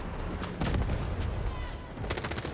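Turret gunfire in the Delta Force video game arrives as a dense, sustained burst of rapid shots with a heavy low rumble, continuous for a couple of seconds at moderate loudness.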